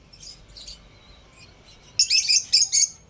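Lovebirds give quick high chirps, a few faint calls followed by a brighter, louder cluster of tweets near the end, with no voices.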